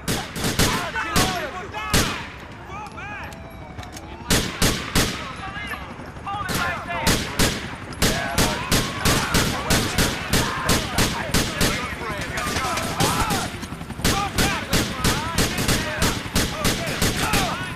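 Niko Bellic fires on police in Grand Theft Auto, with rapid, loud bursts of gunfire packed closely together, brief pauses between volleys, and faint voices underneath.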